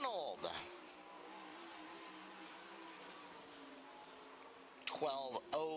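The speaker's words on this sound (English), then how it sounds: "Can hear him just babying that throttle." A race car engine, car number 95R, runs a dirt-track lap at Skagit Speedway with a steady, gently held throttle drone, sharper revving bursts rising and falling at the start and near the end.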